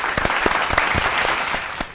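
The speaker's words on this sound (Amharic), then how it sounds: "አጨብጭቡ ለራሳችሁ ጎበዝ።" Children on a televised kids' quiz game applaud themselves in a steady burst of clapping, with a few louder individual claps standing out from the group.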